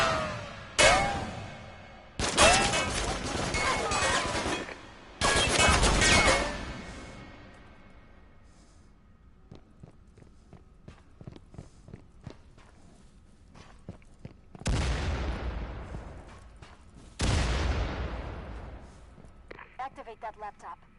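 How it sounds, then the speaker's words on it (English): Gunfire in the video game Firewall Zero Hour: several loud, sharp broadband bursts in quick clusters, with quieter ambient game noise between them and a later pair of shots. "Shoot him again."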